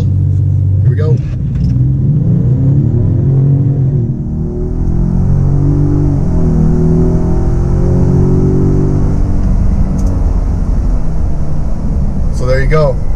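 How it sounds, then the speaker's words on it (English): A 2017 Ford Raptor truck pulls away hard with its turbo engine, a loud, steady low rumble that swells as it gains speed, with brief voices near the start and end. "We're going to get on the brake and the gas a little to get a little bit of turbo up without spinning the tires."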